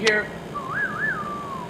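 A whistled melody in the style of a film duel theme: one clear, wavering rising-and-falling phrase, held and sliding down at the end, after a brief voiced sound at the start.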